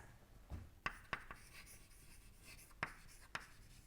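Pen or chalk writing during a thermodynamics lecture, a quiet session of scratching with several sharp tapping strokes and short marks at irregular intervals, faint and without speech.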